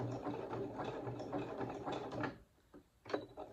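A sewing machine back stitching a rope bowl runs in a steady, dense mechanical whir for about two seconds, then stops, followed by a couple of brief clicks and one more short burst of the machine, close and moderately loud.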